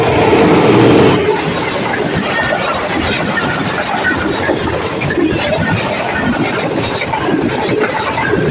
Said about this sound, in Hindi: यहाँ पे क्रॉस है 43 अब शाह हुसैन एक्सप्रेस का, जो बड़ी तेज़ी के साथ बढ़ रही है।